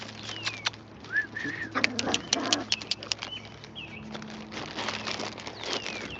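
Pigeons or doves gather to be fed outdoors, with soft coos, short chirps and brief wing flaps clustered in bursts over about six seconds, close by and moderately loud.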